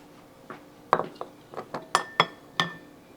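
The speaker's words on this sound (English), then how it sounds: "Okay, it's boiling, so we are going to put a lid on it." A lid is set onto a pot of boiling Mexican rice with a run of close, bright metallic clinks and rattles, about eight quick taps in a row.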